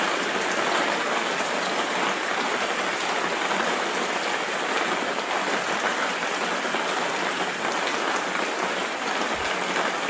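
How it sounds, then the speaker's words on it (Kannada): Steady rushing of water flowing along a channel, a continuous even hiss with no voices. "ಈ ತೋಡಲ್ಲಿ ನೀರು ಇವಾಗ ಹೋಗ್ತಾ ಇದೆ."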